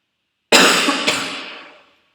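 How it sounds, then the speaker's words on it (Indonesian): A single loud, close cough with a quick second burst, fading out over about a second and a half. "Maaf, batuk."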